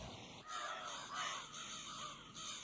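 Crows caw repeatedly and loudly in a dense, overlapping chorus from a large flock that blackens the sky and dive-bombs people, with harsh calls continuing throughout and no speech.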